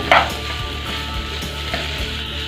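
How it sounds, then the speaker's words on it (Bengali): Leftover rice mixed with egg yolk fries and is stirred in a pan, a steady close sizzle with soft scraping strokes and a brief bright crackle near the start, no voices. "সুন্দর করে নেড়ে চেড়ে ভেজে নেব"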